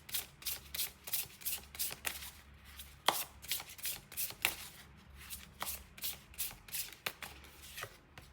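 Tarot cards riffled and shuffled by hand in repeated crisp bursts, close and fairly quiet over a low steady background hum, with no talking.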